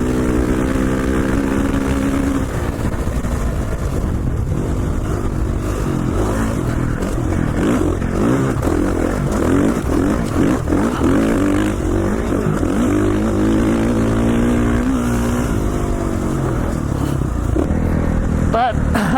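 A KTM 450 dirt bike runs steadily on an Idaho trail, its engine droning loud and continuous throughout with small throttle swells, close to the rider.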